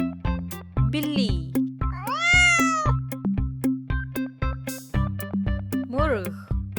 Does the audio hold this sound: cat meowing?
yes